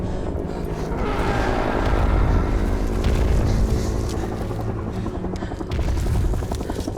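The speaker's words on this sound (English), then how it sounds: "Who do you think's flying that helicopter?" A helicopter roars continuously nearby in an action film, rotor thumping under a dense engine drone that swells and eases slightly throughout.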